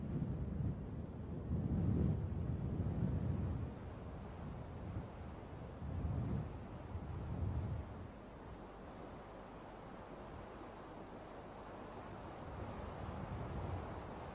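Desert wind blowing sand in the Empty Quarter, a broad low rumbling roar that swells in gusts and eases, steady and close with no voices.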